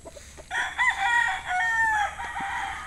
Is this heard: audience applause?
no